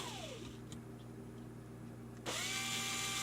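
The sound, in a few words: drill drilling holes in a guitar pick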